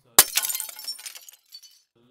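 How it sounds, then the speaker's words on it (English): A mirror smashes into pieces as a story sound effect: one sharp, loud crash followed by a spray of tinkling glass shards that fades, then a few last faint clinks. "A huge crash was heard through the house. The mirror had been smashed into 100 pieces."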